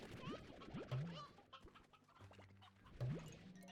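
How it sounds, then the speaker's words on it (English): Chickens clucking and squawking in the farming video game Slime Rancher, several bird calls in quick, irregular bursts, fairly close, with no talk over them. "An unnatural quantity of chickens just spawned."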